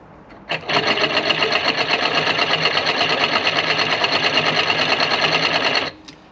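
A Ford F150 vacuum pump run on a small 12 volt supply, a loud close buzzing rattle that starts abruptly, holds steady for about five seconds and then cuts off.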